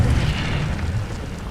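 An Incendio fire spell is cast in the Hogwarts Legacy video game, a short deep whooshing burst of flame that swells loudly and fades, with no voices.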